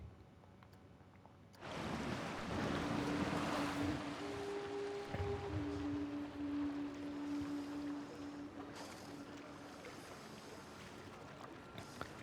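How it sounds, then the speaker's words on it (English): A river rapids ride in the video game Planet Coaster at double speed: water rushes and splashes steadily after a sudden start, with music tones drifting over the churning flow. "Let's go ahead and hop on these river rapids."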